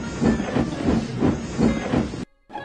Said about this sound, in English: And with a hiss of steam, Misty stormed away.